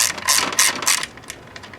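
Ratcheting clicks come from a wrench backing out 10mm bolts on a Chevy 3.8L throttle body, in several quick close bursts that fade toward the end.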